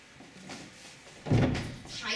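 A locked door on an outdoor children's theatre stage is rattled and tried, giving a sudden heavy thunk followed by softer knocking and shaking sounds over faint background noise.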